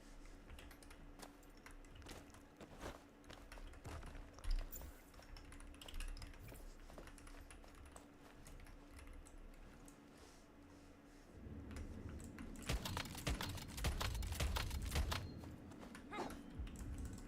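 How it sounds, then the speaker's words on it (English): Typing on a computer keyboard, a long run of quick irregular key clicks that grows busier and louder in the later part, with no speech. "I'm just listening to your keyboard."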